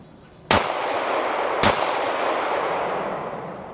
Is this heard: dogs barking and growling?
no